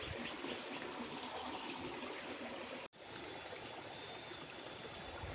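The Sungai Larangan river flows steadily nearby, a dense, even rush of water that runs without letup apart from a split-second cut partway through.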